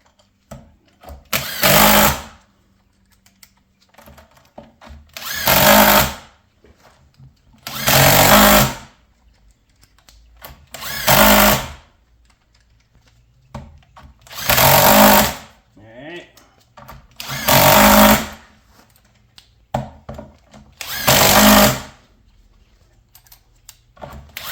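A power drill drives screws to mount a wooden log hat blank before lathe turning, heard as seven loud, close bursts of whirring roughly every three seconds, separated by near-silent pauses.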